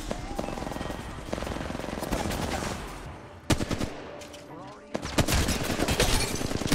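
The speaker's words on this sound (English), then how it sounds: "I'm getting shot" Gunfire strikes the player in Apex Legends Mobile as rapid automatic bursts crackle close and loud, pausing briefly before renewed volleys, with a voice talking over the shooting.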